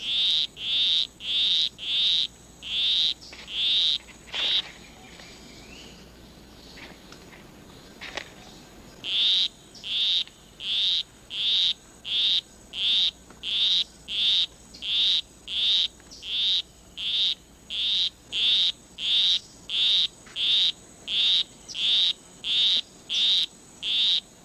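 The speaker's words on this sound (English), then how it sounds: "With his monotonous song, he will try to entice her to follow him under a leaf where they'll mate." Male poison arrow frog in a Costa Rican rainforest gives a monotonous courtship song: a long run of evenly spaced, loud, bright chirping pulses, clear and close, with a short pause early on before the steady repetition resumes.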